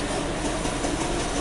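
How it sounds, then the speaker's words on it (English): A Mercedes ML350 engine cranks over with no start, giving a loud, dense, continuous mechanical churning from close by that holds steady throughout. "So we're gonna crank and we're gonna watch these PIDs and see what's good."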